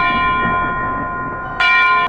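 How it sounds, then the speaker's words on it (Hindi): A church bell tolls at midnight, one sustained ringing tone decaying over about a second and a half, then a second loud strike rings out near the end, clear and close with no talk. "आधी रात का घंटा बजते ही"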